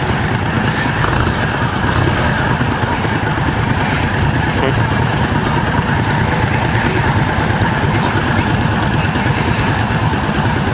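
An Indian Scout motorcycle engine runs with its exhaust at a steady, loud, close rumble throughout, with people talking over it.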